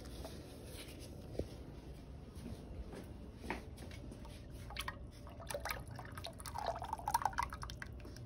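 Warm lime mixture being poured into a soap mixture, giving soft close dripping and trickling liquid with scattered splashes that grow busier toward the end, faint and quiet throughout.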